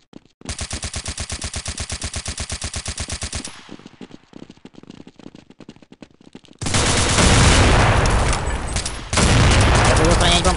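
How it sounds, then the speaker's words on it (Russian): Rapid automatic gunfire in Counter-Strike 1.6 Shock Edition rattles in a steady burst of evenly spaced shots, thins into scattered fire, then gives way to a loud, dense roar of blasts and noise that drops briefly and returns. "Классный выстрел, да?"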